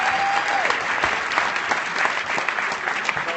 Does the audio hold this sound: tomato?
no